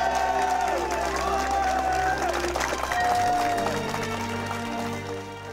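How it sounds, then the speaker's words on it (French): A crowd applauds and cheers for Babette, steady clapping with whoops that swells and then eases, while a held musical or vocal tone carries over the top. "Applaudissements pour Babette!"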